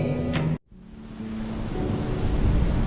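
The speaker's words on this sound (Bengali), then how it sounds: "উফ, যা বৃষ্টি নামলো!" Heavy rain pours down in a dense continuous roar with a deep thunder rumble, briefly cut off by a sudden gap before the downpour resumes steadily.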